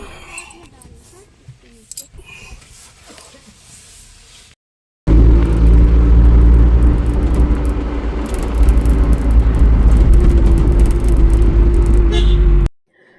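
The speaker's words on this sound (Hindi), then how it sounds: "हम लोग भी गाड़ी में बैठ गए हैं" A car driving, with a steady loud engine and road rumble inside the vehicle that follows quieter chatter and continues for several seconds.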